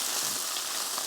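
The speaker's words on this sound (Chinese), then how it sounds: "哎呀，你还要煮，先炒个配菜。" Vegetables for a side dish stir-frying in a pan, giving a brief, steady, close sizzle with a bright hiss and no voices.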